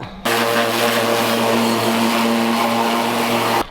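A pressure washer runs steadily as it sprays degreaser over a Toyota Hilux Surf, a loud, continuous motor drone mixed with spray hiss that starts abruptly and cuts off near the end, with no talking.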